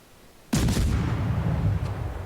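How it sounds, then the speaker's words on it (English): Warship gun salvo in World of Warships, a sudden loud booming blast with a long rumbling low tail, close and heavy, preceded by a quiet background and no talk. "Squeeze off another salvo"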